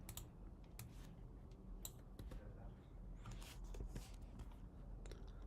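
A computer keyboard tapped out to enter a command, with quiet, irregular keystroke clicks in short bursts over a steady low room hum, close but soft.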